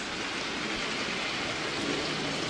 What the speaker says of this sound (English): with this rain, it has driven everybody back inside